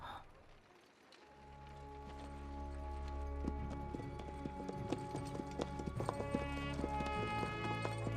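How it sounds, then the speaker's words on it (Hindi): Hooves of Persian horses clip-clop in a steady quickening rhythm, close and fairly clear, over a swelling musical score in a dubbed fantasy action film. "ये घोड़े बर्सियन हैं।"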